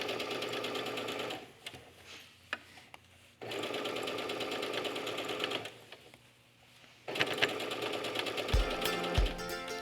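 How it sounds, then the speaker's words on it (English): A sewing machine stitches an elastic casing on doll pajamas, running in steady rapid mechanical bursts close by. It pauses briefly twice, and soft thumps are audible near the end. "sew a wide enough casing that I can slide my elastic through"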